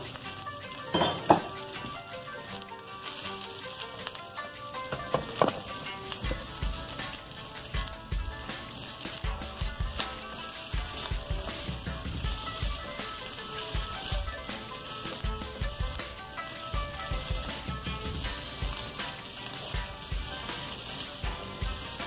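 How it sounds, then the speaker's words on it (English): Vegetables and pimento peppers stir-fry in a pan for sweet and sour Hong Kong style chicken, with continuous light sizzling and frequent clinks and scrapes of a utensil against the pan, close and moderately quiet. "Our vegetables have to stir fry for a bit."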